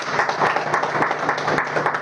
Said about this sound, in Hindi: एक बार और ताली बजा लें अपने लिए